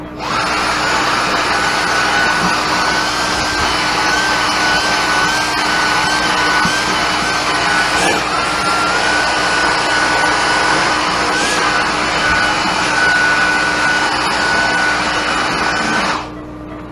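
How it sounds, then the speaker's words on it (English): A vacuum cleaner runs steadily and loudly for about sixteen seconds, sucking up clipped dog hair before a spay surgery, with a constant whine that cuts off at the end. "I'm going to vacuum up her hair."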